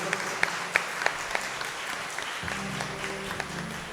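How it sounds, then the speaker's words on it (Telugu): Church congregation clapping in praise during a Christmas novena Tuesday mass in Mettuguda, Secunderabad, a run of separate, fairly regular claps at moderate distance, fading out as a low sustained tone takes over. "ఒకసారి గట్టిగా చప్పట్లు కొట్టి దేవుణ్ణి స్తుతించుదాం."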